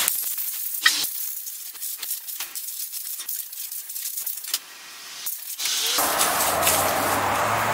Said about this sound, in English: just grab your air compressor and just blow off any dust that may be there